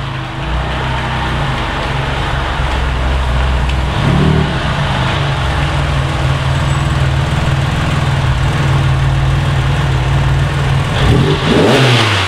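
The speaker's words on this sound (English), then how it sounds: "my buddy Al is coming in with his GT3" A Porsche 911 GT3 arriving, its flat-six engine droning loud and close, with a couple of sharp rev rises and falls as it pulls in.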